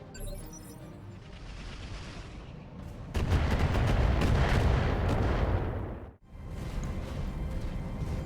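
Enemy mechs firing weapons in the BattleTech RogueTech video game: loud sustained barrages of heavy gunfire and booms, a dense rumbling volley that cuts off abruptly, then resumes more quietly.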